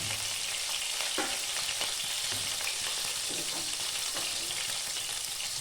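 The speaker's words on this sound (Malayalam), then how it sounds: "വേഗത്തിൽ ഒന്ന് ഇളക്കുക." Ginger and sliced green chilli frying in a pan for chilli chicken while being stirred quickly, giving a close, steady sizzle with soft scraping stirs throughout.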